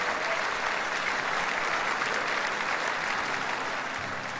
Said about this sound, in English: So would you please give a big round of applause to Chris Kavanagh, ladies and gentlemen.